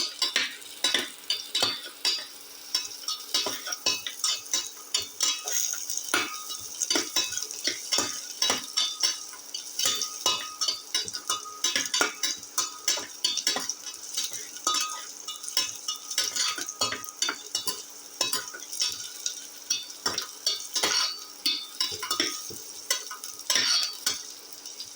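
Onions frying in a pan with steady sizzling, broken up by frequent scrapes and clinks of a utensil stirring against the metal, close and continuous with no talking.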